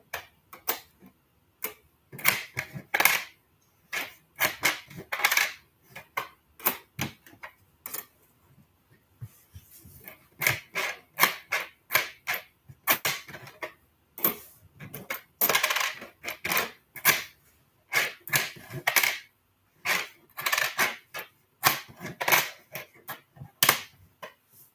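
Pennies and nickels from coin rolls clink and clatter as they are handled and sorted, with a long run of sharp metallic jingles and taps in irregular bursts, close and fairly loud, with brief pauses between handfuls.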